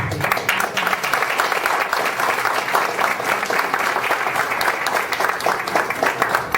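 A large audience gives sustained, dense applause at a historical institute event in Brazil, steady and close for the whole stretch, with no talk over it.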